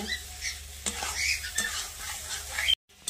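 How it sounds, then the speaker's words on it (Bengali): Eggs and potatoes stir-frying in oil, with a close, steady sizzle and repeated spatula scrapes and knocks before a sudden brief cutoff near the end. "ডিম আর আলু আরেকবার কষিয়ে নেব।"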